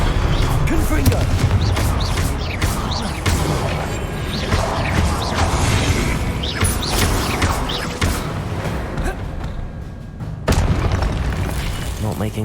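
Confringo blasting spell in Hogwarts Legacy, a run of loud booming explosions and crashing bursts repeating across the clip over a busy game soundscape, with a voice talking at points.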